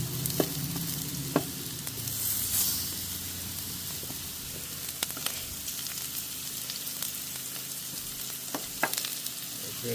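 Sweet potatoes sizzle steadily in a pan for a breakfast, a continuous close frying hiss broken by occasional stirring clicks and scrapes.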